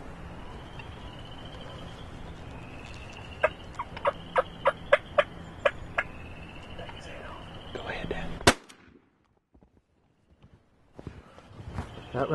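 Wild turkeys gobble in a series of sharp, repeated calls over a steady outdoor background, with a sudden loud burst before the sound drops to near silence and faint noises return.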